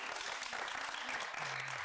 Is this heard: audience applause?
yes